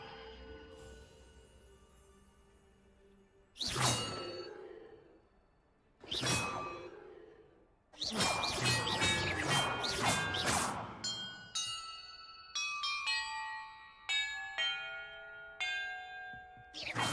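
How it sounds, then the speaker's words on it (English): Bells ring one after another during a bell-order puzzle in the Hogwarts Legacy video game: loud, resonant struck tones with lingering rings, first spaced apart, then a rapid run of overlapping chimes. "Perhaps the map contains clues about the order I'm supposed to ring the bells in."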